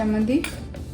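Dishes and cutlery clink and scrape briefly at close range as food is moved into a serving dish in a home kitchen, with a short voice at the start.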